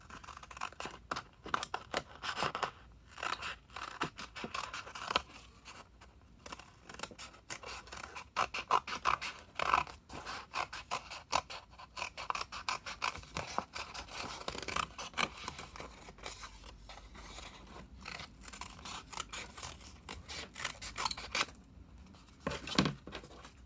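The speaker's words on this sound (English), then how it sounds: "I'm just going to turn my paper to the side so that I can get my scissors, and I'm going to cut." Scissors cut through folded paper for a craft project, a long run of quiet crisp snips and slicing rasps in uneven bursts, close and soft with brief pauses between cuts and no talking.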